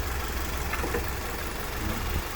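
A 2022 Toyota GR86 engine idling with a steady low rumble and faint mechanical hum, close by and unchanging.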